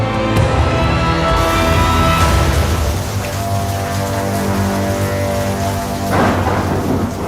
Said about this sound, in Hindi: तूफान के आते ही भयंकर बारिश शुरू हो गई